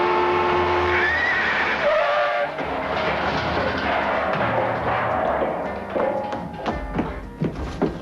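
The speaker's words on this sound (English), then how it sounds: "Runaway horse and carriage." A horse whinnies amid loud, rumbling clatter and thuds, like a carriage rattling along, with the noise staying dense throughout.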